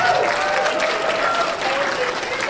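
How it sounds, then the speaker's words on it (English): An audience at a convention game show claps steadily in a dense, even wash of applause, with a few voices faintly mixed in. "Big round of applause."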